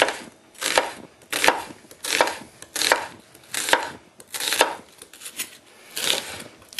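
A knife slices through an onion on a board in a steady rhythm of about nine crisp cuts, close and clear, with no voices.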